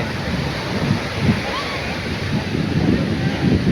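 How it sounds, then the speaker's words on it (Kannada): Sea waves washing in at Malpe beach near Udupi, a steady broad roar of surf with soft surges, close and continuous through the whole stretch with wind noise on the microphone. "ಮಲ್ಪೆ ಬೀಚ್ ಸುಂದರ ತಾಣ. ಸಮುದ್ರ ನೋಡೋದಕ್ಕೆ ತುಂಬ ಚೆನ್ನಾಗಿದೆ."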